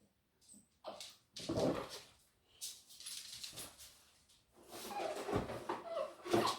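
A dog whimpers and whines indoors in several short bursts with quiet gaps between them, moderately close, with one or two yips among the whines.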